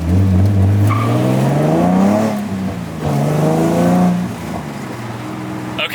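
A Subaru WRX drives past close by, its engine rising then falling in pitch as it approaches and recedes, loud and clear with a second surge of revving before fading.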